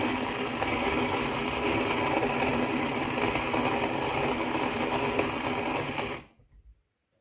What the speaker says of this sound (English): So like, there's the grinder.